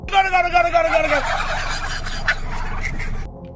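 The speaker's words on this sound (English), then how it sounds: "Trained turkeys that gobble on command" Loud turkey gobbling, several rapid warbling gobbles close up at the start, then fading into a rustling murmur of the flock.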